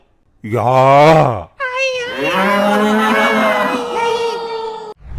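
A buffalo gives long, loud, groaning bellows, two drawn-out calls separated by a short pause, close and dominant over the quiet background.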